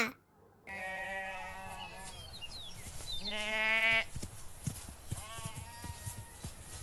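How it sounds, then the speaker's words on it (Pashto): Sheep bleat several times at close range, long wavering calls, with hoof clatter and rustling from the flock in between. "دا پسونه دي"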